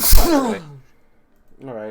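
A single sharp sneeze bursts out loud and close at the start, followed by a quiet pause and then a short spoken phrase from people at a tabletop role-playing session.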